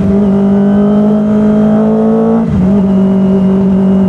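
Loud, close Kawasaki ZX-25R Limited Edition four-cylinder engine holding a high steady whine, then dropping sharply in pitch as it shifts down and blips back up, heard alone without talk.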